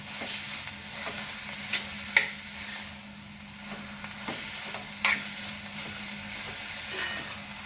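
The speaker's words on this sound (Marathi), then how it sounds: "असं हे छान आपण असं परतून घेणार आहोत" Grated bottle gourd and sugar being sautéed for lauki barfi, a steady soft sizzle with scattered light scrapes and taps of the stirring spoon against the pan, close and moderately quiet with no talking.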